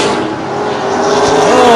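Late model sportsman race cars roar side by side around Plymouth Speedway during a CRA feature race, their loud engines building as they power off a turn.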